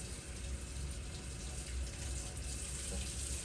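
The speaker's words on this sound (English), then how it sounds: "Okay, I'm going to rinse my denture toothbrush off." Running tap water rinsing a denture toothbrush at a sink, a steady splashing flow close by and moderately quiet, with no talking.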